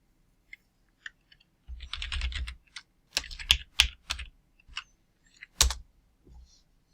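Code being typed on a computer keyboard in short bursts of crisp key clicks, with isolated taps at first, then clustered runs and pauses. The typing is close and clear, with no talking.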